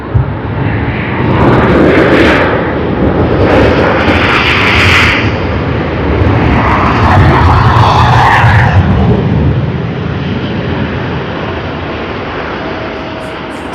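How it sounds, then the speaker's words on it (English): Airliner landing at Sydney Airport with thrust reversers deployed, a loud sustained roar that swells and holds for several seconds, then eases off as the aircraft slows, with no voices. "So pretty much so much of the thrust reversers being used, and it was wonderful to capture that sound."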